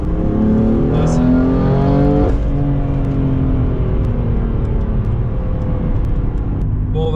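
A BMW M3 F80 tuned to 580 hp revs hard under acceleration, its engine note climbing in pitch, dropping at a gear change, then building again, loud and close from inside the moving car.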